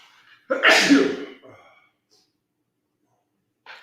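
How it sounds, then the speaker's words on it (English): A single loud, sharp sneeze bursts out near the microphone, followed by quiet and a faint sound at the very end. "gonna sneeze."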